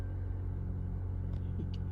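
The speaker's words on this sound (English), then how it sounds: "I can see the engine noise is also so much lower than with the other oils." A Honda car engine idles smoothly on fresh Castrol Edge oil, a steady low rumble that holds close and even throughout, with faint higher ticks near the end.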